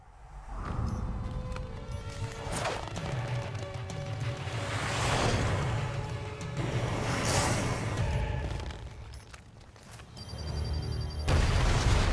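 Booming explosions and whooshing blasts from Marvel Ultimate Alliance 2 play out in a continuous dense barrage of crashes and rumbles, loud and close, with no talking.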